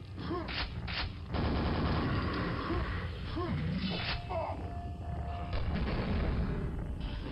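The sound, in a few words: big nail gun firing in Quake (Tremor mapset), video game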